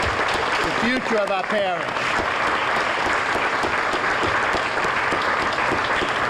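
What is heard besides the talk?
audience applause for nominees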